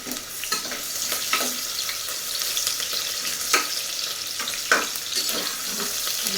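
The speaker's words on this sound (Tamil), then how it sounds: "நல்லா பொருளெல்லாம் வறுப்போம்." Carrots, beans, potato and cauliflower frying in a pan for vegetable biryani, a steady close sizzle broken by occasional scraping stirs, with no talking.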